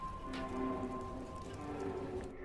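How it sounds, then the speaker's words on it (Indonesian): Heavy rain falling steadily, a dense even hiss of drops on surfaces with no voices, continuous and at moderate loudness. "Karena hujan cukup deras"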